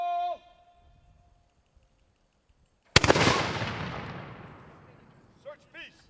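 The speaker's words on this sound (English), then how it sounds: "at this point, the swivel gun is loaded and ready to fire." A historical swivel gun fires a gunpowder charge with one sharp, loud blast that rolls into a long decaying rumble; a shouted voice comes just before and brief voices follow as the echo fades.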